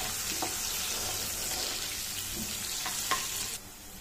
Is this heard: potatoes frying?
yes